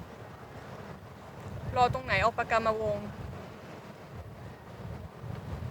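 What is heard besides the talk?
strong wind on the coast of Koh Samui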